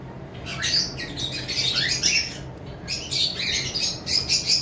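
Lutino pied pet birds, sold as a pair, squawk in repeated harsh, high bursts at close range over a constant low background hum.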